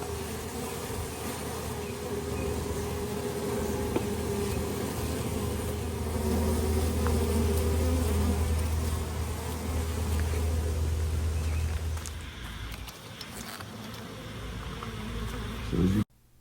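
Honey bees buzz steadily around a swarm trap hive outdoors, a continuous close insect drone with individual bees passing near, lasting the whole stretch before cutting off abruptly at the end.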